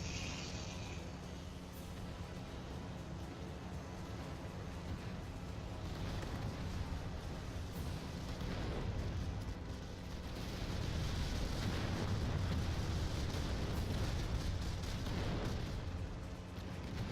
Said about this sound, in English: Some more artillery.